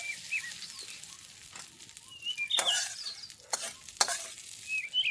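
A spoon stirs fried mustard seeds and curry leaves into coconut chutney, making close scraping strokes and a soft sizzle in bursts, with faint bird chirps in the background.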